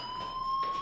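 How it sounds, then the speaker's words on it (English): A fire alarm rings in the video game Life is Strange, a steady electronic tone that holds through the whole short moment with no talk over it. "Hey, do you hear that fire alarm?"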